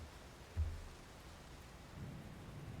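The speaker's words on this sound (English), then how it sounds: "that rain is like still hitting the deck above, and there's the occasional like rumble of thunder that rolls out" Rain drums steadily on a ship's deck overhead, with a low roll of thunder rumbling in the distance near the start and another swelling later; no voices.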